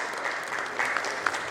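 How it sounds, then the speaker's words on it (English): A short burst of audience applause at a business panel session on digital loan collections, steady clapping from a modest crowd with a few sharper claps standing out. "Can we have Dillip with a big round of applause"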